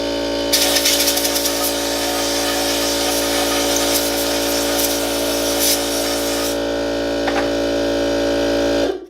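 Compressed air at about 100 psi blasts through a freshly cut Ubbink vent pipe for a Rinnai tankless water heater, a loud, steady hiss that holds for roughly six seconds with a constant mechanical hum beneath, then fades as the air cuts off.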